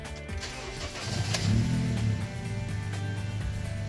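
A Honda CR-V third-generation car with a faulty MAP sensor cranks and starts, its engine catching with a low rumble and settling into a steady idle close by.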